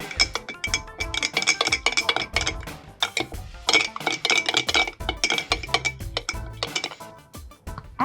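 Sugar, soy sauce, oyster sauce and Thai chili paste being mixed for a Thai shrimp curry sauce, a rapid run of close clinks and scrapes of a utensil against a dish in quick bursts, no talking.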